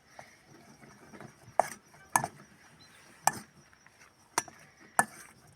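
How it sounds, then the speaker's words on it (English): A spoon thumps and slaps bread dough by hand in a bowl for bush bread made while travelling, giving five or six sharp, separate knocks at irregular intervals over a quiet background. "I'll just give this a good bashing around with the spoon."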